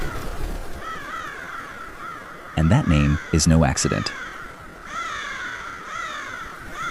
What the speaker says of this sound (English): when a flock of crows gathers in your front yard